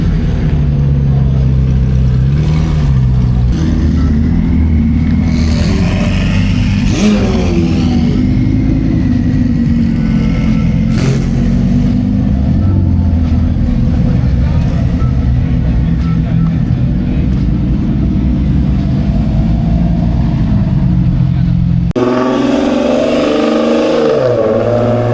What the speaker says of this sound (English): All the supercars are rolling out. McLarens, Lambos,